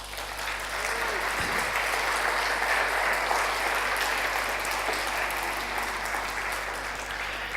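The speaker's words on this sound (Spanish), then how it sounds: "Dele un aplauso a Jesús." Church congregation applauding at a sermon, a dense, steady wash of many hands clapping that swells quickly and holds for several seconds before easing slightly.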